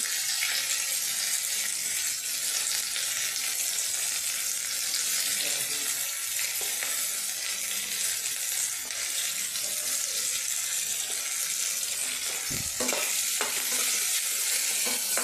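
Steady loud sizzling of onions frying in a pan for capsicum curry, a continuous hiss with a few brief scraping knocks near the end.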